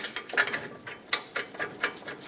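Hand ratchet snugs brake caliper bracket bolts on a Ford E-350, a close series of quick clicking strokes in short irregular bursts, heard alone without talk.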